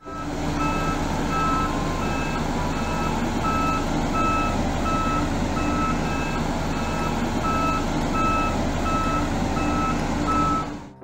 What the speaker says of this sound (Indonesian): Di sini ada mobil kompaktor atau mobil salender.